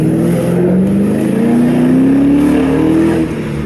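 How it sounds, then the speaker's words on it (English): A loud Lincoln Town Car engine with an aFe cold air intake and throttle body spacer revs steadily upward with a droning howl from the air box, continuous and close, no voices. "It's like howling from the air box"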